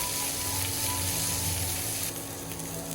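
Onions with green chillies frying in a pan in a village kitchen, a dense continuous sizzle close by with no talk over it.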